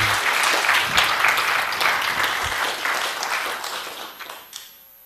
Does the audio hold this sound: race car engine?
no